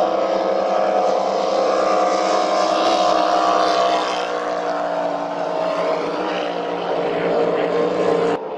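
The P-28 Renegade crackerbox racing powerboat's engine roars loudly and steadily at high revs during qualifying, its pitch shifting slightly before the sound cuts off abruptly at the end.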